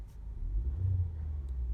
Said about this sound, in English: Car's running.